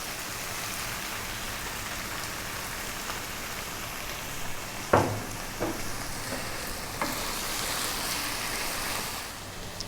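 Meat sauce with tomato cooks in a pan, giving a steady broadband sizzle and bubbling throughout, with a few sharper stirring knocks and scrapes near the middle and toward the end; no voices.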